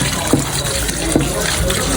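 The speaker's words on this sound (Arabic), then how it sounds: "هتغسل البصل يا غالي بشويه ميه عاتبين." Water pours steadily from a tap over peeled onions being washed in a kitchen, a close, loud continuous gushing splash with a couple of small knocks, and no talking.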